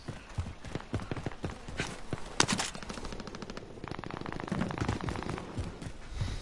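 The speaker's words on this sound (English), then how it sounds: "There's Mick shooting!" Rapid automatic gunfire in the online shooter game Warzone, dense bursts of shots rattling continuously and loudly throughout, with no clear talk over them.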